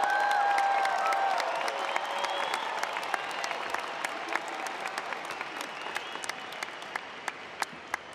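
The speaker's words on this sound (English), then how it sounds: "Big round of applause." Audience applause at a 2018 RMIT University graduation ceremony: a dense crowd clapping, loudest at the start and slowly thinning to scattered claps, heard from within the hall.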